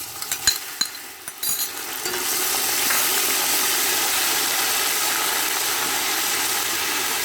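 Steady sizzling of garlic ginger paste frying in a hot pan, loud and continuous after a few scraping clinks at the start.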